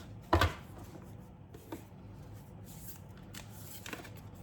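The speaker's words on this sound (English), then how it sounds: "I will just shuffle and let's see how it goes about." A short burst of oracle cards being shuffled up close, followed by a few soft, scattered card taps and rustles in a quiet room.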